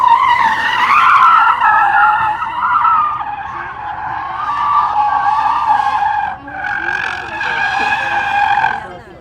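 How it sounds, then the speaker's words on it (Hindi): A car drifts in China with long, loud, continuous tire squeals that rise and fall, holding almost without a break. "आज की एक्टिविटी वो गाड़ी के कुछ ड्रिफ्ट करने लगे हैं।"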